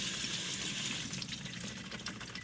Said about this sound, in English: Run them under some water.